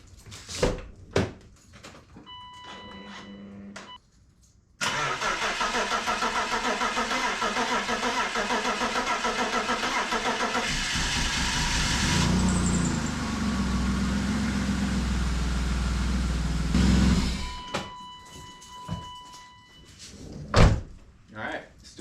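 A BMW M50 engine, past 100,000 miles, cranks and starts after reassembly, then runs loud and steady at idle with some revving. Door clatter comes before and after the run.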